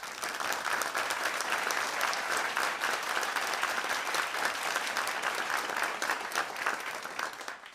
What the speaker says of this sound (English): I think we owe John a huge thank you and a round of applause.